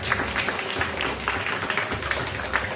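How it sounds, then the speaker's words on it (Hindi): An audience claps loudly for two teachers at a gurukul class, a dense, sustained patter of many hands filling the room for a few seconds. "दोनों गुरुजी के लिए एक बार तालियां बजा दो जोरदार।"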